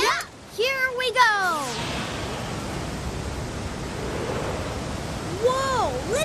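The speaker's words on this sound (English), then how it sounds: "Whoa, listen to the waterfall. It's thunderous." A cartoon waterfall at the bottom of Niagara Falls roars as a steady, dense rush of noise after brief animated vocal sounds, with more swooping voice-like sounds returning at the end.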